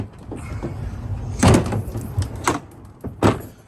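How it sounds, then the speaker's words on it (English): A drawer slides open in a vehicle gear rig, with a few short knocking and sliding bursts close by against a low background rumble. "Let's get into this other drawer here."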